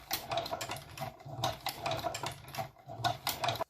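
A $100 leather sewing machine stitching leather in short, rhythmic bursts of rapid mechanical clatter with brief pauses between runs, close and moderately quiet.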